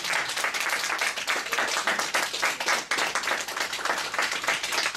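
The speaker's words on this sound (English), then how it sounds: "I know some of the applause might be mercy applause, but still I love it." Steady audience applause follows a Beijing opera song, dense clapping from a crowd holding at an even level throughout without any talk.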